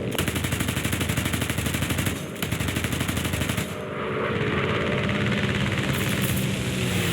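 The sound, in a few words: aircraft machine gun fire during head-on pass, War Thunder video game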